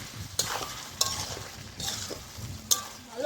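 Country chicken with ground chili sautéing in a pan, a close sizzle broken by several sharp spoon strokes scraping and clinking against the metal at an uneven pace.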